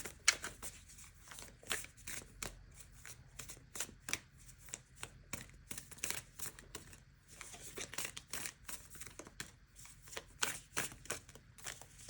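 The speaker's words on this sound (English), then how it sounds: "First oracle card. I'm going to pull a few." Oracle cards being shuffled by hand, a soft, steady riffling and flicking of card stock with quick papery bursts throughout, close but quiet, with no talking.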